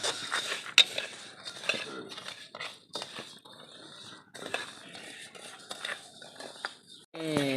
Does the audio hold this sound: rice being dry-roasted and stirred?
yes